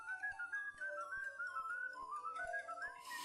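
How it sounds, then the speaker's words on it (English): Someone whistles the William Tell Overture, a lilting melody, clear and fairly close, with faint regular ticks underneath. "What was he whistling?"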